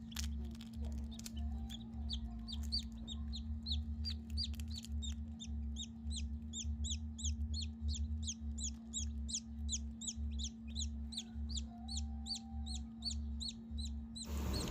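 Newly hatched chicks peeping inside an incubator, a rapid run of many high, repeated cheeps over a steady low motor hum, fairly faint and with no talking.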